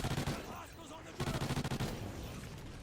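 Rapid gunfire from standard basic ammunition in a Call of Duty match, a loud burst of repeated shots at the start and another run of quick shots midway, over game sound and a voice.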